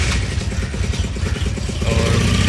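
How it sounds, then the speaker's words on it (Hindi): Honda CD 200 Road Master motorcycle being ridden, a close, loud, continuous engine rumble with rhythmic pulsing and rushing road and wind noise, no talking. "हमें लेके जा रहे हैं इस बाइक पर राउंड पे"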